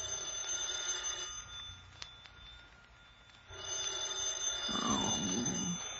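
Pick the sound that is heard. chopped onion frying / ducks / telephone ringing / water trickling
telephone ringing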